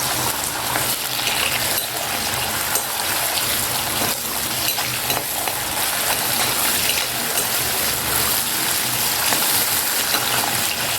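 Mutton liver frying in a pan for a curry, giving a steady, loud sizzle with a continuous hissing, bubbling wash that holds evenly for the whole stretch, with no talking over it.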